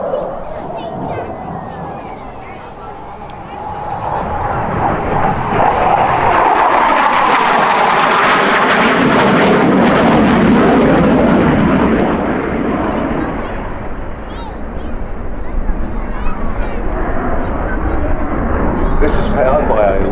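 A SAAB 35 Draken jet, powered by a license-built Rolls-Royce Avon with afterburner, roars loudly past the crowd at the Midlands Air Festival. The broad rumble swells and holds, with an announcer talking over it.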